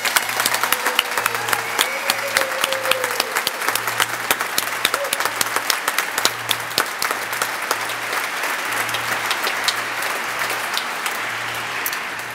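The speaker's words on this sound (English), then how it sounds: "One more round of applause." Prolonged, lively applause fills the room at a Vancouver police swearing-in ceremony for new officers, many sharp claps forming a dense, steady roar with scattered crowd murmur beneath it.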